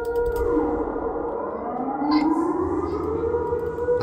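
A long rising-and-falling siren wail from the horror video game Siren Head Field drones steadily and loudly throughout, layered with eerie sweeping tones and no talking.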